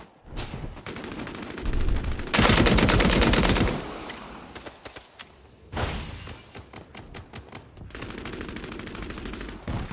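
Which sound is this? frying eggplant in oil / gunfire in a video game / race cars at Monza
gunfire in a video game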